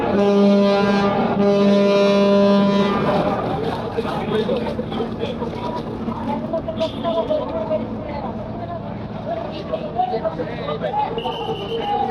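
A passenger launch on an Eid special trip pulls in to dock at Barishal before dawn. A loud, sustained horn blast lasts about three seconds, then gives way to a steady engine rumble mixed with crowd hubbub from the waterfront.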